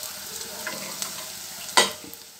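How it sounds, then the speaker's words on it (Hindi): Onion, ginger and garlic browning in oil in a pan for a home-style potato and pea curry, giving a soft steady sizzle with light stirring scrapes and one sharp clatter of a spoon against the pan, close, no talk. "प्याज ऐसे ही ब्राउन करनी है फ्रेंड्स"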